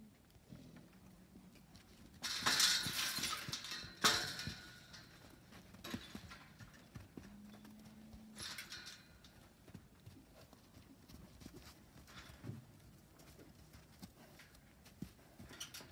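Horses clop and shuffle their hooves nearby at an irregular pace, with a few loud noisy bursts and a brief low whinny in between.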